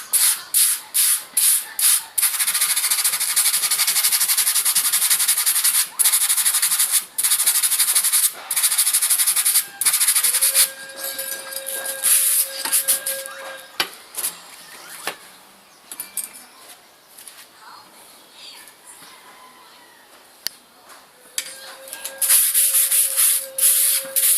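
Sandpaper scrapes along the steel blade of an antique Moro kris during restoration, with rapid, loud, rhythmic rubbing strokes, then a quieter stretch of lighter scratching before the vigorous sanding resumes.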